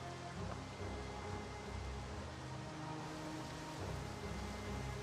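Light rain falls steadily in the survival game Project Zomboid, a soft, even hiss with faint pattering that continues unbroken and fairly quiet throughout, with no voices.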